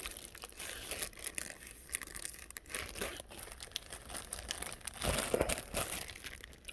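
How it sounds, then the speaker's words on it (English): A Ziploc plastic bag is handled and crinkled up close, making faint, continuous rustling and crackling that swells briefly louder partway through, with no talking. "Joey, how do you deal with Ziploc bags?"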